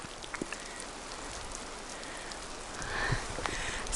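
Rain falling steadily in a redwood forest, a soft, even patter on foliage and ground with a few nearer drips, swelling slightly toward the end.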